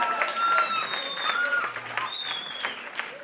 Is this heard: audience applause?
yes